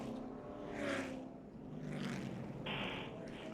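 Engine roar of Michael Waltrip's No. 55 NASCAR Sprint Cup car heard from inside the cockpit at Auto Club Speedway in California, a steady loud drone that swells and dips with gear and throttle changes, with no talk over it.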